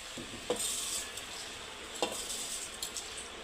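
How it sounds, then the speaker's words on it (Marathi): Rice being added and stirred in a pressure cooker with green peas for matar pulao: two sharp scraping strokes stand out over a steady, soft sizzle, with no talking. "त्याला आता तांदूळ टाकूया"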